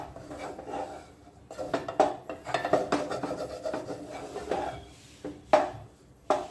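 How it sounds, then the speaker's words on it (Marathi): A spoon scraping and rasping against a pan as gram flour is stirred and roasted in ghee over low heat for laddoos, with irregular soft scrapes and taps, close and fairly quiet, no talking. "याला छान आपल्याला मंद आचेवर परतवून घ्यायचंय"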